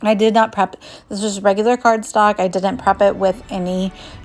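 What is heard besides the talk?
No distinct noise like a dog, phone or traffic.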